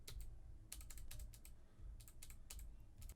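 Quick bursts of clicking keys on a computer keyboard, used to navigate a PS1 game playlist in RetroArch, come in irregular clusters with short pauses between them, close and fairly quiet with no talk.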